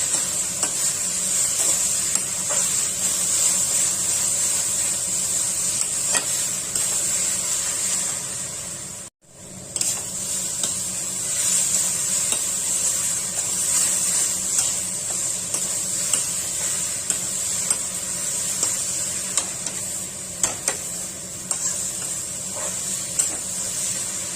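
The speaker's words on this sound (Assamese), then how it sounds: "দাইলখিনি অলপ ভাজি ল'ম" Masoor lentils fry in a pan with small whole onions, giving a continuous close sizzle with faint stirring scrapes and one brief break partway through.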